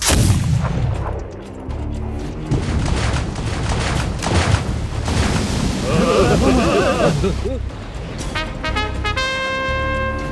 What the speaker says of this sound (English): The newly completed batteries and the 3 Krupp guns started to shell the French warships.